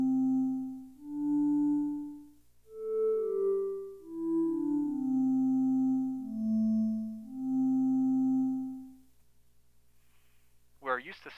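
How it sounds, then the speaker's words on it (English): A synthesizer tone with longer attack and longer decay swells in and fades out slowly, a sequence of smooth, soft notes at shifting pitches gliding into one another, alone, with a brief voice at the very end. "Here's an example of a sound with a longer attack and a longer decay."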